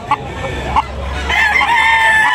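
Roosters crow loudly and close by at a busy rooster market in Tabunok, Talisay, Cebu, with one long crow rising over constant crowd chatter and low background noise.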